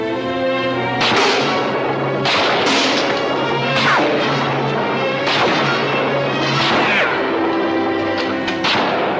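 Gunshots ring out near an outdoor porch setting, several loud sharp cracks spaced a second or two apart, each followed by a brief ringing echo.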